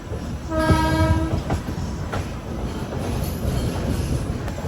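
The Janshatabdi Express from Chennai Central to Vijayawada rumbles along the rails, its horn sounding a long, loud blast early on over the steady rolling of the wheels.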